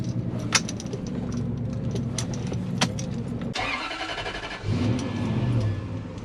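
A 3UZ-FE V8 engine swapped into a KUN26 Toyota Hilux hums low and steady near 1000 RPM inside the cabin, with faint road noise and a brief shift in tone partway through.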